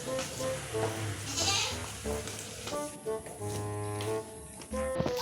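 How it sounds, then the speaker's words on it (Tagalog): A goat bleats several times in short wavering calls, fairly close, against a busy background with steady hum and other noise. "Kambing na yan, kumain."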